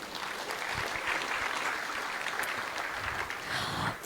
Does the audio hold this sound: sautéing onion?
no